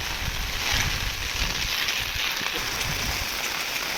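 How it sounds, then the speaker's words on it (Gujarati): Heavy rain pours down steadily near a pond, a dense, even hiss of drops drumming on surfaces with no break. "સવારના 2 વાગ્યાથી સરસ પુષ્કળ વરસાદ પડી રહ્યો છે"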